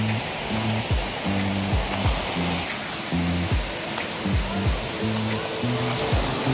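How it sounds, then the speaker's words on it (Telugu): Yerravaram waterfall rushing in a rocky setting: a steady, loud broadband roar of falling water that never lets up, with a rhythmic low thumping pattern running underneath. "ఒక జలపాతం సౌండ్ అయితే వినబడుతుంది"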